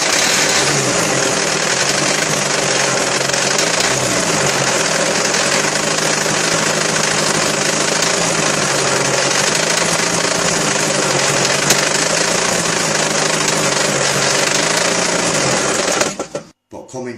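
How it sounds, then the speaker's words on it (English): A 2011 Peugeot 307 engine, sprayed with Easy Start to get it running, keeps up a steady, loud mechanical rattling drone for about sixteen seconds before cutting off abruptly. "The only time when it fires is when I spray Easy Start directly into the engine and then it kicks up"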